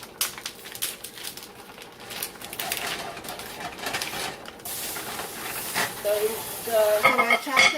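Ground beef and chopped onion frying in a pan, a soft crackling sizzle with scraping and stirring, quieter at first and growing louder and busier toward the end, with a few clinks of a utensil.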